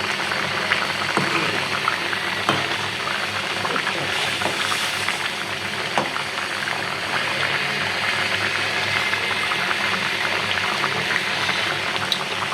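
Poa fish curry with a little tomato bubbles and simmers in a pan, a continuous close boiling and sputtering with occasional soft pops and clicks, no talking.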